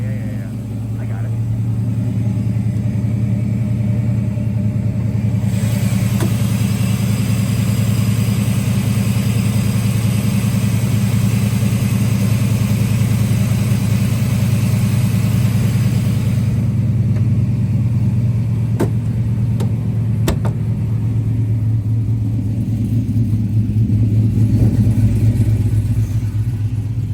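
Steady, loud engine rumble from a 1980 Chevrolet Malibu with a 6.0L engine runs throughout, smooth and close, rising slightly near the end with a few clicks.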